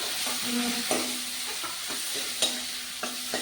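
Chopped onion sautéing in a hot pan for idli preparation, with a steady close sizzle broken by several sharp spoon scrapes and stirring knocks, no voices.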